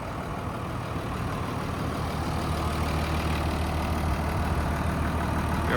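A New Holland TM tractor idles in a farmyard, its engine a steady low rumble that holds constant and swells slightly toward the end.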